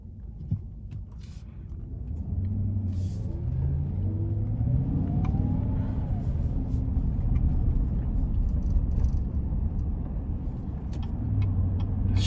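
A 2020 GMC Yukon XL SLE with a 5.3L V8 and 4WD pulls out of a corner, a steady low engine rumble building and holding from inside the cabin, with no talking.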